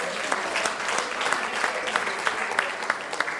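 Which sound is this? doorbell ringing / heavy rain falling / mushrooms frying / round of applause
round of applause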